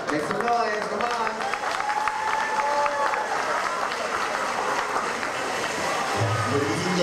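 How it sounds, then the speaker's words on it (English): A pageant crowd applauds and cheers as a contestant is introduced, with loud mixed clapping and shouting and voices audible throughout. "Ladies and gentlemen, a big round of applause for Venus LaBeija."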